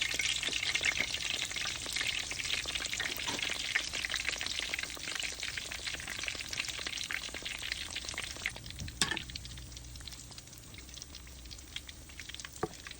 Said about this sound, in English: All right, let's let them fry.